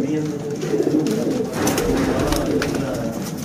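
A golden pigeon coos softly among other birds, its low rolling calls repeating under a person talking nearby.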